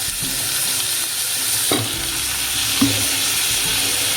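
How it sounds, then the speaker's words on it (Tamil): Long-cut eggplant pieces go into a hot pan and are stirred as they fry, a steady loud sizzle with a couple of sharp spoon scrapes against the pan, close up and free of speech. "இப்போ இதில் நம்ம கத்திரிக்காய் சேர்த்துக்க போகிறோம்"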